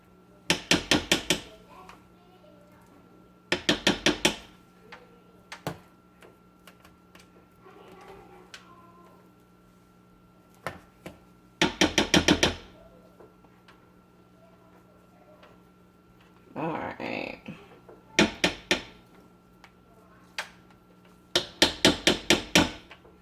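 Castile soap paste being scraped off a stick blender by hand, heard as sharp clusters of rapid metallic knocks and taps in bursts, separated by quieter stretches of faint handling noise.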